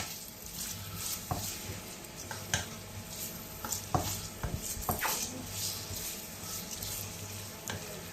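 Ginger sizzles steadily in moderately heated oil in a pan, with a continuous frying hiss broken by scattered sharp clicks and scrapes as it is stirred.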